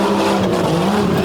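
Monster truck at an Overdrive Monster Trucks event in Pennsylvania, a loud, steady roaring engine drone close by, continuous and unbroken.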